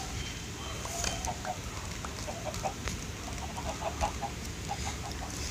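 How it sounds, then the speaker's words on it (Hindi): Chickens in Minecraft Pocket Edition survival give soft, scattered clucks over a steady low background hum, faint and without talk. "वो इतनी सारी मुर्गियाँ इनके अंडे उठाता हूँ"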